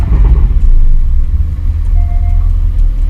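A manual Porsche 718 Spyder pulls away with a low, close engine burble and road rumble, loud and steady throughout with no talking.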